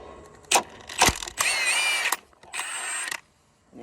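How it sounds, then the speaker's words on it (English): Impact wrench loosening a nut on a 2024 Can-Am Renegade XMR 1000R ATV, heard up close as two short sharp bursts followed by two longer rattling runs with brief pauses between them. "A little bit of impact in the wrench and then back it off."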